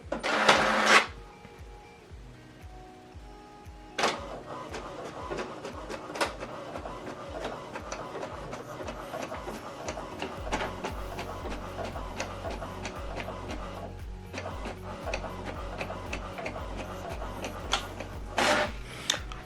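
A document printer runs through a print job after a loud startup clunk: steady mechanical whirring and rhythmic feed ticks, with sharp clacks as paper moves through, close and fairly loud with no talking.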